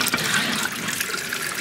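Tap water running steadily from a household faucet in Trinidad, a loud continuous hissing gush close to the microphone with no talking.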